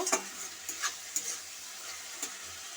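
Ivy gourd stir-fried in a pan, a few sharp spatula scrapes and clicks over a soft, faint sizzle with no talking.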